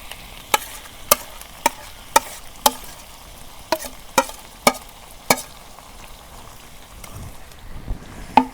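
Marinated broiler chicken frying in hot oil with browned onions, a steady low sizzle broken by a regular run of sharp spoon clacks against the pan, then looser scraping and stirring toward the end.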